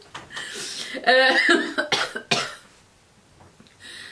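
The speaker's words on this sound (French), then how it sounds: "Pourquoi je m'étouffe à chaque vidéo? Je m'étouffe avec de l'air." A person coughs and clears their throat after choking on air, a burst of harsh coughs close by and loud, followed by quieter throat noises and a faint breath near the end.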